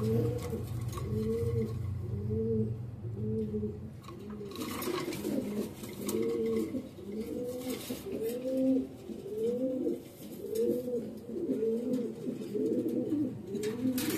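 Pigeons coo continuously at a farm selling pigeons, repeated rolling coos overlapping in a steady rhythm, fairly close and moderately loud, with no talk.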